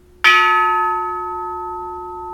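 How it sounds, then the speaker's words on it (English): A single clear bell strike rings out loudly, its bright tone sustaining and slowly fading over a couple of seconds. "That's a good bell."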